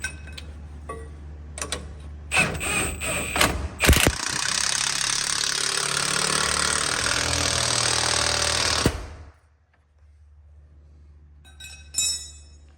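Pneumatic impact wrench working on a Prevost bus, a few short clicks then a loud sustained rattling burst of several seconds that cuts off, followed by quieter tool clinks in a garage, no talk.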